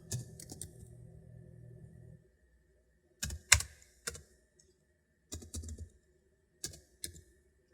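Computer keyboard typing in short bursts of rapid clicks separated by pauses, close and fairly quiet, with no voices.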